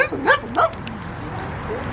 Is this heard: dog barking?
yes